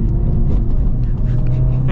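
A 2024 Honda Civic Type R engine shifts through the gears, a loud, steady low rumble heard from inside the cabin with little change in level.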